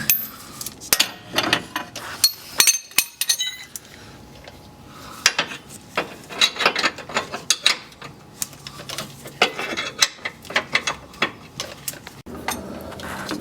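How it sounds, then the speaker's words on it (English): A wrench loosening bolts at the rear of a PT Cruiser, heard as irregular metallic clinks and clanks in quick bursts with short gaps between them, close by and with no talking. "I'll switch to that wrench that's easier to work with"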